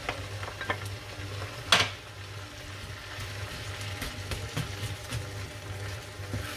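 Onions and peppers cook in a pan, a soft continuous sizzle with occasional scraping stirs and one sharper clatter early on, fairly quiet and close.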